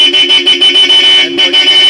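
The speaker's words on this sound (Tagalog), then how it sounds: "stock horn, round horn with both passing" A stock Honda ADV160 scooter horn beeping loudly in rapid short bursts, close and bright, with a brief gap before the honking resumes.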